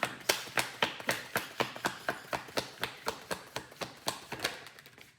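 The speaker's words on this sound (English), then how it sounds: "Let me pull some more cards." Tarot cards are pulled and snapped from a deck in a rapid, even series of crisp taps, about twenty quiet close clicks in steady rhythm with no talking.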